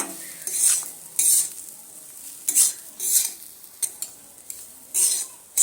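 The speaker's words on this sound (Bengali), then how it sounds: "আমি সমস্ত কিছু মিশিয়ে আরও পাঁচ মিনিট সময় ধরে সুন্দর করে ভেজে নিচ্ছি" Semolina with cashews and raisins is stirred and fried in a pan: repeated scraping strokes of a spoon in bursts roughly every half second to second, over a soft, faint background, with no talking.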